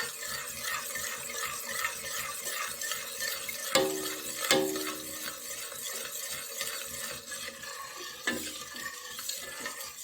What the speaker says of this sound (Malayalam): കൈ ഇടാതെ ഇളക്കി കൊടുത്തുകൊണ്ടിരിക്കണം